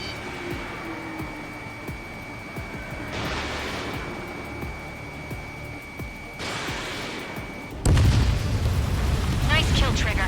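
Missile explosions in the air-combat game Ace Combat 7, with two swelling broadband roars followed by a sharp, louder blast that holds into a dense rumble near the end.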